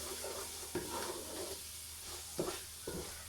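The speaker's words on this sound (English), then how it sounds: "I'll stir just for a couple of minutes" Spices toast in a pan for a courgette curry, a low steady sizzle with several soft stirring scrapes at irregular intervals, close and fairly quiet.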